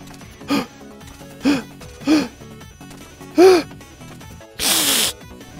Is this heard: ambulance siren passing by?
no